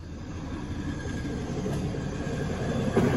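A Norfolk Southern freight train rolls past close by, a steady loud rumble of rail cars and wheels that holds throughout with a brief clank near the end.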